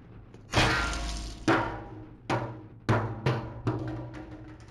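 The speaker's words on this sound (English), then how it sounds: "Glass walkways shatter when battling against a Helghast" Several sharp crashes of shattering glass walkways in Killzone 1, five or six separate bursts, each with a heavy impact and a ringing, decaying tail of breaking shards.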